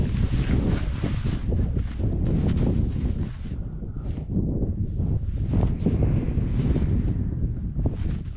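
Strong outdoor wind buffets and rumbles across the microphone at sunset while a power kite is flown, a loud continuous roar with gusty swells and brief lulls, no talk.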